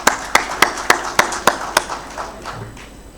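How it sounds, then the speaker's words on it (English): Sharp, evenly spaced claps ring out about eight times, close and distinct, then fade into softer scattered taps as an audience welcomes a speaker at a Victoria Falls winter school event. "Let's give a round of applause as she comes up."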